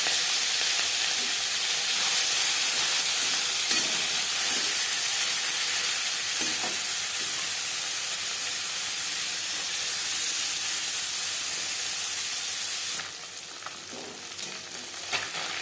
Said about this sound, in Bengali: তিন চামচ সর্ষার তেল গরম করে নেওয়ার পর দিয়ে দেবো ম্যারিনেট করে রাখা মাছ